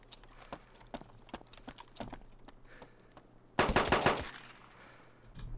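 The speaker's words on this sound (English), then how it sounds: "I heard that gunshot too." Gunfire in the video game DayZ: scattered sharp shots crack at irregular intervals, then a sudden louder burst of rapid firing erupts close by before fading.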